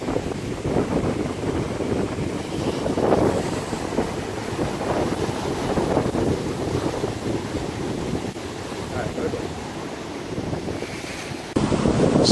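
Rough hurricane sea surging over a coastal road, a continuous loud roar of crashing surf mixed with heavy wind buffeting the microphone, steady throughout with no voices.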